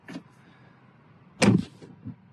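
Tesla Model 3 front door shutting with a solid thunk, preceded by a faint click, then a couple of softer thuds as it settles, heard up close inside the car.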